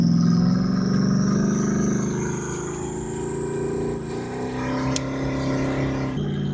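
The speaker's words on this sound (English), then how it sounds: "you're gonna have to deal with some of the noise that this car makes" Steady engine drone of a Chevrolet Camaro cruising on a highway, with rising whine as it accelerates and road noise throughout, heard from inside the vehicle.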